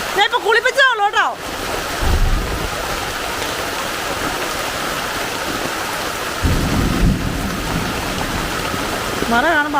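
Heavy rain hisses steadily and loudly, and deep thunder rumbles swell up twice beneath it, with people talking briefly at the start and end.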